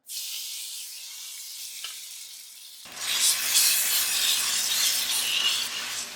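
Chicken kebab pieces dropped into hot oil in a pan start a loud, steady sizzle that rises abruptly after a quieter hiss and continues close and strong.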